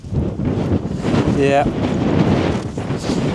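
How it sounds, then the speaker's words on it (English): Strong wind buffets the microphone in a low, rumbling roar while someone speaks briefly over it. "Too windy, can't hear out."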